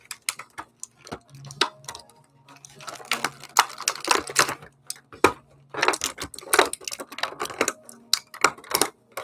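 An action figure is pulled free of its plastic packaging, giving a run of sharp crinkles, snaps and rustles in irregular bursts, close and fairly loud with no talking.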